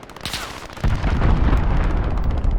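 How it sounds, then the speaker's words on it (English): A cruise missile strike detonates in Call of Duty Modern Warfare multiplayer, a few sharp pops followed by a heavy, rumbling explosion that rolls on and fills the rest of the moment. "Allied cruise missile launched."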